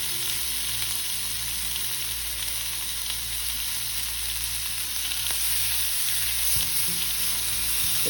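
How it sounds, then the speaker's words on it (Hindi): Mutton chops sizzle on an oiled grill pan, a dense, steady hiss of frying fat that stays even and close throughout, with a faint knock near the end. "अब हम इसको उस पर रखेंगे ग्रिलिंग के लिए"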